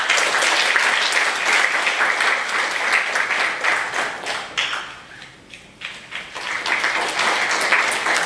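Conference audience applauding to welcome a professor, dense sustained clapping that thins out briefly near the middle, then swells again.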